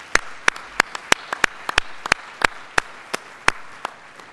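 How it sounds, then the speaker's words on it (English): A small audience at an awards gala claps for honoured lifetime members, a sparse scatter of distinct handclaps at an irregular, unhurried pace with no voices over them. "Let's give another round of applause for our 2010 lifetime members"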